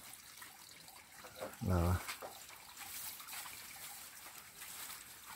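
Spring water piped from a hillside source trickles into a pig pen with a continuous, fairly loud wash of flowing water. Someone speaks briefly over it near the middle.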